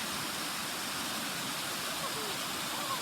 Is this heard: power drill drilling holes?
no